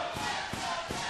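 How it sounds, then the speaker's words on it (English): Arena wrestling crowd chanting in rhythmic, repeated beats, fans dueling with chants for Richards and Rhino at a Ring of Honor show, a dense roar filling the hall throughout this short moment. "You hear the dueling chants as fans in the Dewburns Arena, supportive of both Richards and Rhino."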